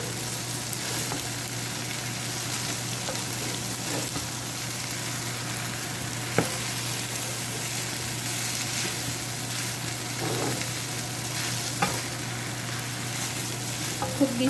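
Chow mein noodles frying in a pan over medium heat, a steady close sizzle and crackle with a constant low hum beneath and a few soft stirring knocks, with no talk.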